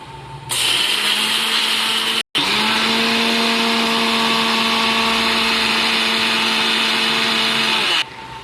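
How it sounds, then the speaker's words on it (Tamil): Mixer grinder grinding cooled roasted masala for bisi bele bath, a loud steady whine with a low motor hum that cuts out briefly near the start and then runs on alone to the end. "வறுத்து வச்ச மசாலா நல்லா ஆறுனதுக்கப்புறம் நல்லா மிக்சி ஜாரில் போட்டு நைஸாக அரைச்சிடணும்."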